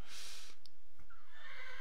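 A horse in Minecraft, played in the Hexxit modpack, lets out clear whinnying neighs, a rising squeal then a second call close to the listener, with no talking.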